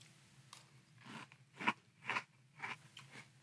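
Close-up crunching of Cinnamon Toast Crunch Peanut Butter cereal in milk, four or five crisp bites and chews spaced about half a second apart, quiet and alone.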